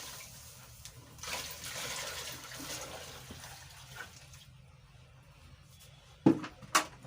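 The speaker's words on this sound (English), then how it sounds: "Then add 4 liters of warm water." Warm water pours steadily into a homemade hair conditioner mixture, a soft continuous splashing that fades out before two sharp knocks at the end.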